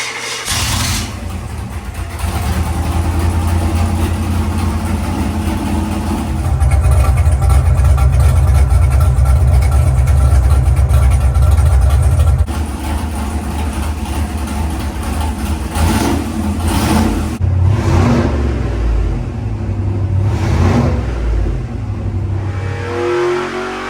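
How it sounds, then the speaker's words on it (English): A big block V8 in a 1970 Chevrolet Nova with a 5-speed roars on a chassis dyno, rising from idle into a long, loud wide-open pull, holding high revs, then easing off with bursts of revving and settling back down. "let's go ahead and make a pull on this thing and let's see where it comes out today."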